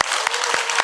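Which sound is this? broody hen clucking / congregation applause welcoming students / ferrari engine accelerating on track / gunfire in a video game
congregation applause welcoming students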